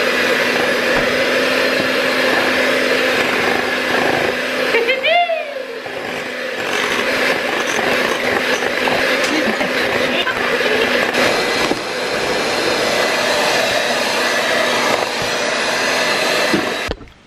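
An electric mixer whirs continuously while beating tres leches cake batter, a loud steady motor whine that briefly dips and shifts pitch midway before resuming, with people talking faintly around it.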